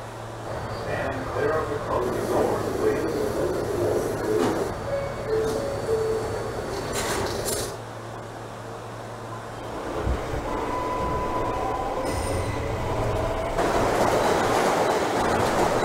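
A simulated New York City subway J local train in Trainz Simulator 2012 runs with steady rumble, rail clatter and brief wheel squeals, continuous and close, with onboard announcement voices over it.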